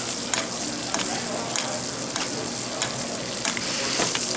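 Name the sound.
louvar fish frying in butter in pan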